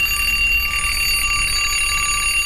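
An alarm clock ringing continuously and loudly, a steady shrill metallic bell tone with no pauses.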